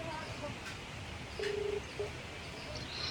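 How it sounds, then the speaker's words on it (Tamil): Telephone keypad dialing tones beep a few times in short bursts, one longer and then a brief one, over faint outdoor ambience by a river with occasional bird chirps. "இப்போ அவருக்கு ஃபோன் போடுவோம்."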